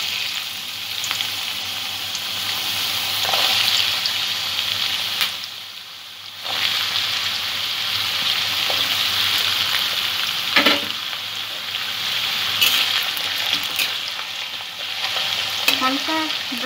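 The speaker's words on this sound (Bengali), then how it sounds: "আলুটা সামান্য একটু ভেজে নিয়ে আমি তুলে রাখব।" Potato pieces fry in mustard oil for a Bengali-style chicken ghugni, a steady loud sizzle with stirring scrapes and brief dips, heard alone with no talk.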